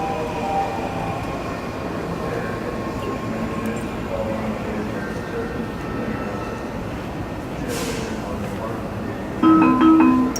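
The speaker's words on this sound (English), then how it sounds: "Step back, doors closing." Washington D.C. Metro subway train stands at a station, a continuous rumbling hum of the car with faint squeaks, and a louder electronic door chime near the end; a recorded announcement voice speaks.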